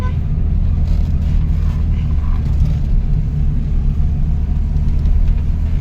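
A car engine rumbles steadily while driving on a trip to the jungle in Narur, Konkan, a dense low drone of road and motor noise that stays loud and constant throughout.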